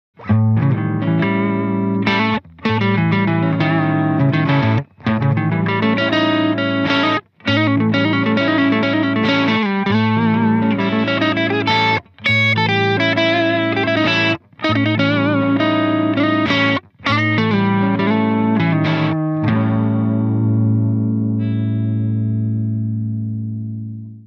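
An electric guitar with distortion and chorus jams a Lydian dominant pentatonic pattern, a loud, continuous run of notes broken by several brief pauses before a final chord rings out and fades.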